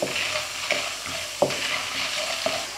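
Edible gum (gond) frying in hot oil on a high flame for halwa, with a steady bubbling sizzle and several distinct clinks and scrapes of a spoon stirring in the pan, no voices.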